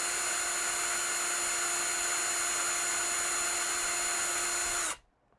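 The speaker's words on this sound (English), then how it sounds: "I have one hole to drill right here." Power drill boring a hole through a 3D-printed plastic Master Chief helmet part, a steady close whine held for about five seconds before cutting off sharply into quiet.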